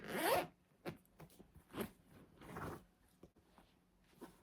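The zipper top of a secondhand handbag being pulled open, a quiet close zip with a sharp opening stroke followed by several shorter rasping drags and faint handling sounds.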